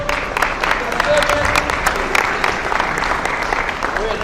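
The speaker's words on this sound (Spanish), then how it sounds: "un aplauso para el ganador" Applause and cheering for the winner of a drill at a children's rugby coaching session, a lively crowd of clapping hands with voices mixed in, fairly loud and continuous.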